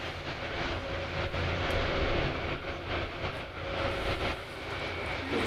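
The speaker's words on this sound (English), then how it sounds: "The sound of the jet as it takes off, absolutely fantastic" A jet aircraft takes off as a dense, steady roar of engine noise, loud and sustained throughout, with no voices over it.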